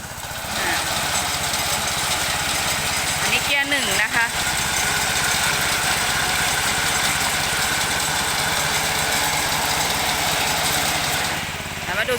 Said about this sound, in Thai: เดี๋ยวจะมาทดสอบ หัวเกี่ยวนะคะ ว่ามันทำงานยังไงนะคะ